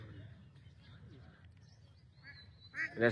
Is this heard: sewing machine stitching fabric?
no